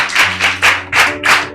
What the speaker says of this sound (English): Now let's clap for her.